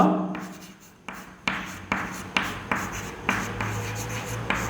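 Chalk or marker writes on a classroom board during a physics lesson, a series of brisk scratching strokes that repeat in a steady rhythm, close and clear with no talking.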